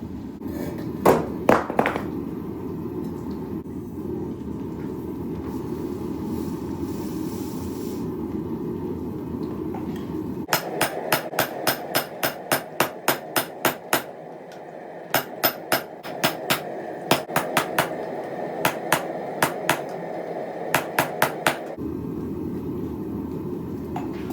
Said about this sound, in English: try to upset that square piece from the top with my hammer